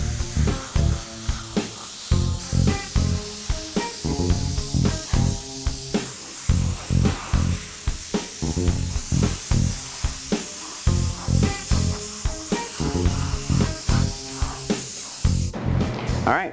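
POR 15 high build primer is sprayed on in coat after coat, a string of short, even hissing bursts in a brisk regular rhythm, close and loud, with a sharper hiss at the very end.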